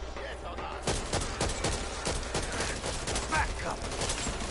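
Rapid gunfire crackles in the co-op zombie shooter Back 4 Blood, dense bursts of shots overlapping steadily with game noise throughout, fairly quiet in the mix.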